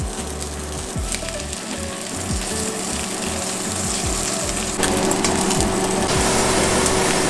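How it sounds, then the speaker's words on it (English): Salmon skin sizzling and crackling steadily in a pan during an Alaskan catch-and-cook, with irregular pops and spatters over a constant hiss and low background rumble, no one talking. "I'm going to fry the skin."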